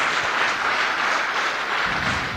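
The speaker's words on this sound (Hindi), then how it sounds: "जोरदार तालियां इनके लिए" Steady applause from an audience, a dense wash of clapping that holds at an even level throughout.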